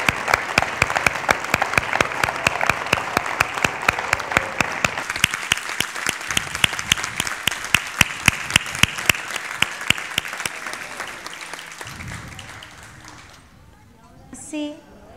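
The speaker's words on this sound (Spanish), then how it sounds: "ahora les pido a todos un enorme, enorme, enorme aplauso por las familias y por estos egresados" A crowd at a kindergarten graduation ceremony claps loudly and steadily for the families and graduates, the applause holding strong for about ten seconds before thinning out and fading to near silence.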